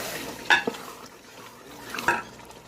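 A spoon stirs chicken frying for shorba in a pot, with two distinct metallic scrapes and clinks against the pot rim over a faint, low sizzle; no talking.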